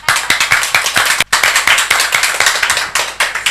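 Close, loud rhythmic clapping from an audience at a religious gathering, crisp individual claps in a steady beat with a brief break partway through.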